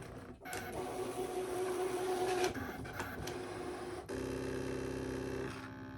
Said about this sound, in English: Now it's cutting 2 tabs, the little 2 tabs that go on the side, and the rivet holes that go in them.